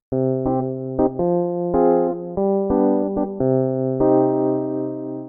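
Warm, bell-like synthesized Rhodes electric piano chords played in a steady rhythm, each struck note ringing with a soft mellow tone, heard alone without talking.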